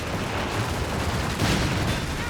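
Distant crackle of sustained gunfire in Company of Heroes 3 multiplayer battle, a dense, noisy wash of overlapping shots with a swell midway, continuous and fairly loud.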